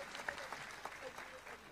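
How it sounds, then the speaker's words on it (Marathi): An audience at a kirtan gathering gives a short burst of faint, distant applause while an honouring ceremony goes on, and a voice speaks over it. "आपण टाळ्या वाजवून."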